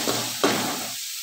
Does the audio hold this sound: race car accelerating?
no